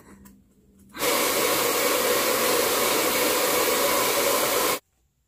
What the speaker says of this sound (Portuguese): eu vou ter que secar com o secador